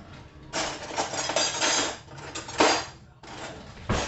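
Rummaging for a spoon among kitchen utensils at home: bursts of metallic clinking and clattering of cutlery and pans, several loud rattles with short pauses between, close by and with no talk.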